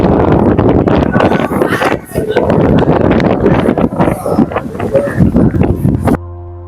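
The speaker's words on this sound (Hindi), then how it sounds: "आप देख सकते हैं कितनी अच्छी हवा चल रही है" Wind gusts buffet the microphone at Rameswaram beside greenery and a river, a loud rough rumble that swells and dips over several seconds before cutting off.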